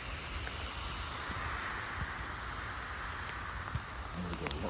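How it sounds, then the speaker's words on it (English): Heavy rain falls outdoors as mist blows in, a dense continuous hiss with scattered drops, steady and enveloping, with faint sounds of handling near the end. "the mist is blowing in, it's raining hard"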